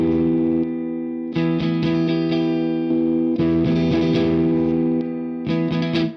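An Ibanez Iron Label RGRTB621 electric guitar plays in its single-coil pickup position, producing loud distorted chords that ring out in several sustained phrases with strummed accents between them.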